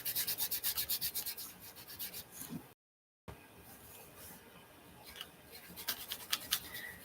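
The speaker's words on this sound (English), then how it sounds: "I think I'll do the antique gold. And I just rub it with my finger." Fingertip rubbing antique gold Rub 'n Buff wax onto an art board, giving soft, close, repeated scratchy strokes in bursts, with a brief silent gap between them and no talking.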